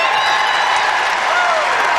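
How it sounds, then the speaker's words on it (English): A home crowd in a high school gym gives a boys basketball player a warm round of applause, a dense, steady wash of clapping with scattered cheers, loud and continuous, with a commentator's voice likely mixed in. "who gets a big hand from the Southeast crowd"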